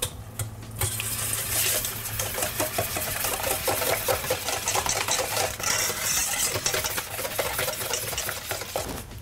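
Eggs and sugar whisked together in a bowl until pale, with a steady, continuous whirring and rattling of the beater in the batter throughout, close and fairly loud.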